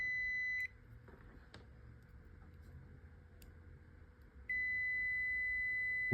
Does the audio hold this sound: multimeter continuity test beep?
yes